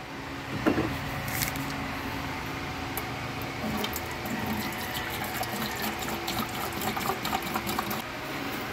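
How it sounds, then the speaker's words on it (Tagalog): Water sprays steadily from a homemade condenser-based sprinkler driven by a motor, a continuous hissing wash with faint mechanical whirring underneath, recorded up close. "dahil ang bilis lumabas ng tubig, ayun, lumalabas na siya kagad"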